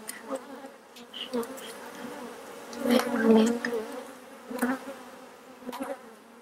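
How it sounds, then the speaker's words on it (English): Honey bees buzz steadily around a hive, a dense droning hum that swells and fades as individual bees pass close. "the bees are, they're not real defensive, but they're not crazy about it either"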